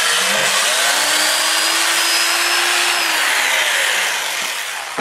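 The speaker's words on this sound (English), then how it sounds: "We're just going to sand it like this." Abrasive paper sands a spalted sweet gum bowl spinning on a wood lathe, making a loud, continuous close-up hiss with a steady motor hum underneath that eases slightly toward the end.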